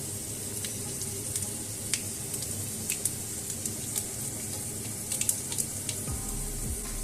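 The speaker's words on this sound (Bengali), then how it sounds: "এর মধ্যে আমি সাদা জিরে ফোড়ন দিলাম আর দেব 2টো তেজপাতা" Cumin seeds and two bay leaves crackle and sizzle in hot oil in a pan for a Bengali yam and prawn curry, a steady close frying hiss dotted with sharp pops, with a low clunk near the end.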